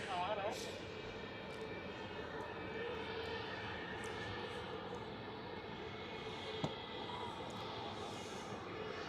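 Qatar Airways airliner at Zurich airport, a steady broadband engine roar held at a moderate distance for the whole stretch, with a brief sharp click near the end and faint talk underneath.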